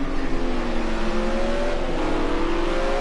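Porsche race car engine during a British GT race, a loud steady high-revving whine with rising pitch that holds throughout without pause.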